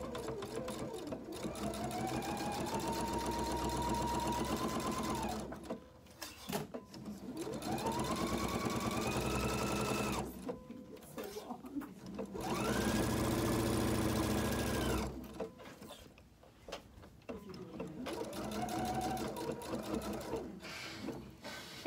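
A sewing machine stitches a quarter-inch seam on fabric for a car trash bag, running in several loud, steady bursts of a few seconds each, with short pauses between them and no talk.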